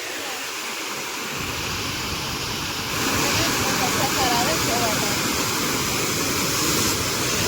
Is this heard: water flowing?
yes